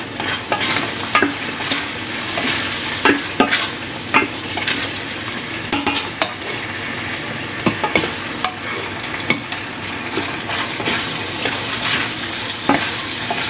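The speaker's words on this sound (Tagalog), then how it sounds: "Haluin natin ang ating macaroni para ilagay na natin sa 7 plate." Macaroni in fresh cream being stirred in a pan, a spoon scraping and clinking against the metal in frequent irregular strokes over a soft, steady sizzle, close and fairly loud, with no talking.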